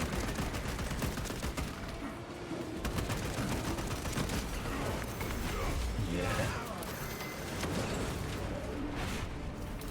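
Rapid gunfire in Space Marine 2, dense bursts of shots crackling nearly nonstop across the clip, loud and close, with continuous mechanical battle noise beneath.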